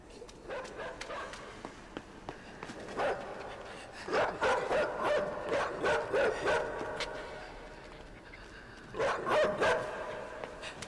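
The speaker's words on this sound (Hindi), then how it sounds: "भाई ये कुत्ते" Dogs bark in repeated bursts in the platform game Inside, loud and close in several clusters separated by brief lulls, with a voice talking over part of it.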